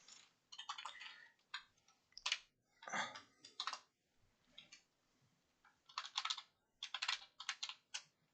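Rapid bursts of computer keyboard typing, clicking keys in irregular clusters with short pauses, fairly quiet and close, no talking.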